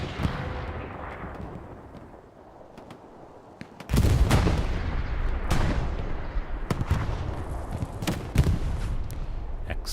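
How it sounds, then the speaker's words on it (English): A rocket launched at a building during a console match of the World War II shooter Hell Let Loose on Utah Beach, a sudden loud blast followed by scattered gunshots and rumbling explosions. "uses the rocket to clear the building right there."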